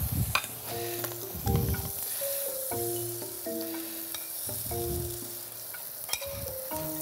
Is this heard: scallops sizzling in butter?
yes